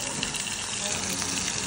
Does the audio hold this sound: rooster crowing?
no